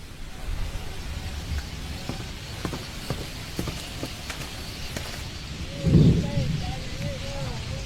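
Steady rain falls near a cabin hut, a broad hiss with a heavier low burst partway through, while voices talk over it.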